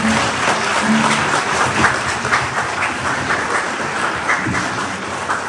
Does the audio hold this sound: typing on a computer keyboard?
no